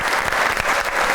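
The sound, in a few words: audience applause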